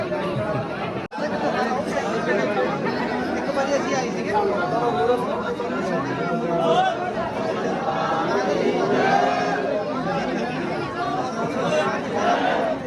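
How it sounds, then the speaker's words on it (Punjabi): A large crowd at Naina Devi temple produces a dense, continuous babble of many voices, with a nearby person also talking over the hubbub. "ਭੀੜ ਬਹੁਤ ਜ਼ਿਆਦਾ ਹੈ ਮਿੱਤਰੋ"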